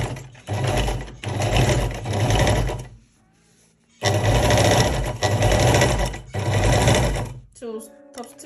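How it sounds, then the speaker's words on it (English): Sewing machine top-stitching three sides of a cargo pocket flap, running in loud close bursts of rapid stitching with a brief pause between, then stopping near the end. "Now what we'll be doing now is to top stitch it, the 3 places."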